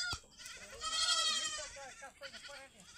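Goats bleat in a rural yard, a drawn-out nasal cry up close followed by shorter calls, with faint voices in the background.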